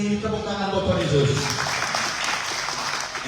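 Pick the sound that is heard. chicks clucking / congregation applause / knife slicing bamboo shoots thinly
congregation applause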